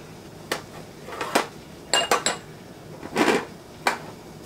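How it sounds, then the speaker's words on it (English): Glass canning jars clink and knock together as they are lifted out of an oven for filling with peach salsa, several sharp separate clinks spaced over a few seconds, close and clear with no talking. "I'm ready to get some jars out of the oven and get started filling them."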